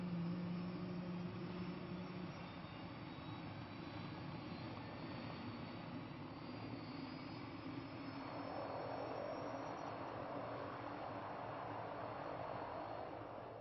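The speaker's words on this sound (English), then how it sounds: "with the rotor spinning about 125 revolutions per minute, the Rotodyne took to the air." A Fairey Rotodyne rotorcraft flies with its rotor tip jets burning, a steady roaring drone that holds at a fairly even, moderate level with no break, somewhat distant and muffled.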